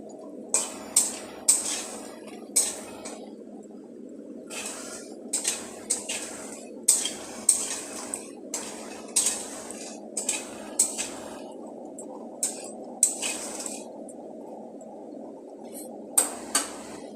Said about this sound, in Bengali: ডালের বড়িগুলোকে আমি লাল করে ভেজে নেব